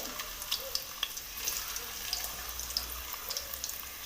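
Crushed ginger and garlic fry in hot oil in a pan with a continuous, fairly quiet hiss and scattered small crackles across the few seconds, no voices present.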